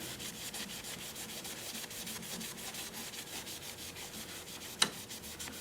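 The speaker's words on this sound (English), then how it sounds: "I'm sanding at 80 grit" Rhythmic, scratchy rasping of 80-grit sandpaper rubbing back and forth on turned California olive wood, steady and fairly quiet, with one sharp click near the end.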